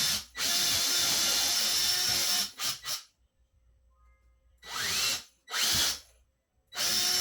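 Power drill pre-drilling holes in wood for a farmhouse coffee table with breadboard ends, several loud whirring bursts of varying length separated by quiet gaps.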